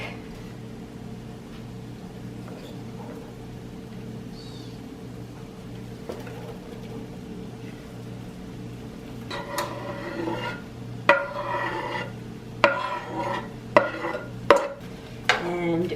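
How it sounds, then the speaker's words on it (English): Onion and garlic are added to a pan of cooked ground turkey, with a low steady background hum, then a run of scraping and sizzling stirring and several sharp clacks of a utensil against the pan. "Okay, the ground turkey is done, so now I'm going to be adding the onion and garlic."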